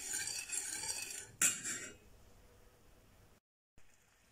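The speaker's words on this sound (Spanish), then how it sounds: "Vamos removiendo y dejaremos en el fuego hasta obtener un caramelo rubio." A spoon scrapes and rubs against a pan while sugar and water are stirred on the stove for caramel, with rasping strokes over the first two seconds, a sharp brighter scrape midway, then fading to faint noise.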